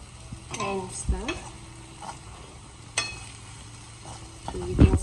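Moth beans being stirred in a little oil in a pan, with several scraping spoon strokes over a low, steady sizzle, fairly close and moderately loud, with no talking.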